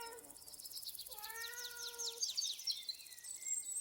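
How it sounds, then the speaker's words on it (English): A cat meows a few times, soft and drawn out, against a quiet background with crickets chirping steadily. "she heard a soft mew from up ahead"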